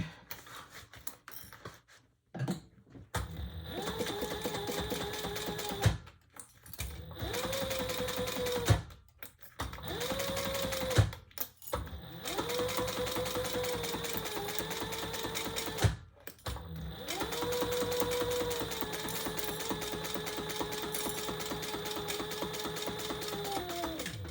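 A sewing machine top stitches a bag in long, loud, close running bursts with the motor whine rising and falling, broken by several short pauses.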